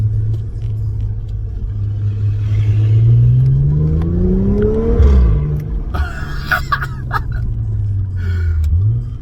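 Audi S5 exhaust with a centre box, revved in a throttle blip: a deep engine rumble climbs in pitch then drops back, with a second smaller rise near the end, close and loud, no talk.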